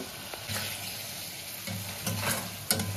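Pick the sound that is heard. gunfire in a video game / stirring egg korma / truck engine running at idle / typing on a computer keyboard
stirring egg korma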